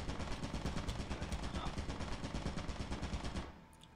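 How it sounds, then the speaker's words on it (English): Rapid automatic turret fire in a horror video game, a dense string of evenly spaced gunshots firing nonstop at close range for about three and a half seconds before cutting off abruptly. "because that turret's targeting you."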